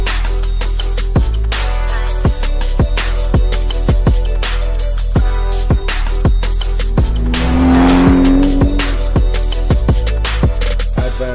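A Mazda RX7 and a Toyota Supra tuned to about 450 horsepower race in Italy, engines roaring close by with repeated sharp gear-change bursts and a long loud tire squeal midway, no talk.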